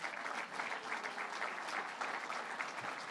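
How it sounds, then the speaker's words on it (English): An audience claps steadily through a dense, sustained round of applause at a political budget announcement, even in level from start to finish, with no voices standing out. "Let's give Kevin Law a big round of applause."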